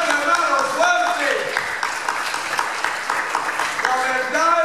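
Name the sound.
audience applause in church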